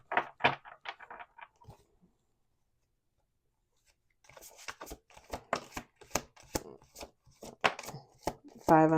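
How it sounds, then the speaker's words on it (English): A deck of cards is shuffled by hand in a quick riffle of dense crackling snaps, then a pause, followed by a longer run of clicking and flicking cards, with a brief voice at the end. "We're going to do 2 more shuffles."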